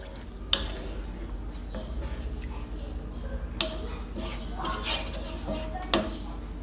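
Butter garlic sauce being mixed into cooked crawfish in a pot, with utensils clinking and scraping against metal in a steady clatter, a few sharper knocks standing out.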